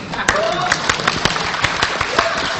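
Audience applause at a talk on Pancasila and the MPR breaks out as a burst of scattered claps, moderately loud and mixed with crowd murmur and a speaking voice.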